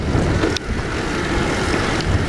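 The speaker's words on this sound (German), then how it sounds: "Ist das windig? Ja." Steady, loud wind buffeting outdoors at a campervan stop on the Lower Rhine near Xanten, with continuous broadband rushing and gusts across the whole stretch and no voices.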